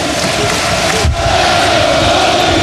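Loud, steady roar of a basketball arena crowd cheering at a 2007 NCAA Boston College versus Virginia Tech game, a dense wall of voices with a brief dip midway.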